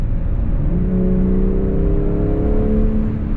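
A BMW M4 G82 with 510 horsepower accelerates hard, its engine note climbing steadily in pitch through a loud, continuous rev with no talking.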